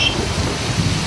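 Heavy monsoon rain hammers down on low-lying Mumbai as a dense, steady roar with a low rumble of thunder beneath it, loud and continuous across the brief stretch.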